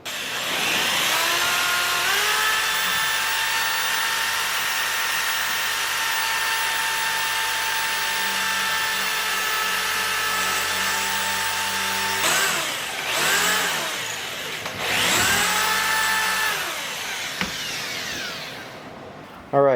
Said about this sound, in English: So I'm going to drill a hole, slide it in there, and it should expand and lock that piece